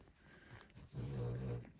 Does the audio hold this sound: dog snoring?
yes